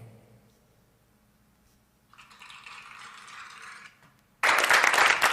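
Applause sound effect on a live online show: a soft rattling patter at first, then a sudden loud burst of clapping that runs to the end, with no one talking.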